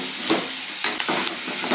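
Mung bean masala curry frying in a pan, a continuous sizzle broken by several stirring scrapes and bursts of spatter, close and fairly loud.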